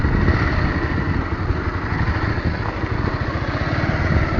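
A motorcycle engine in Syangja, Nepal runs steadily and loudly throughout, a close, continuous rumble with a rattling edge and no breaks.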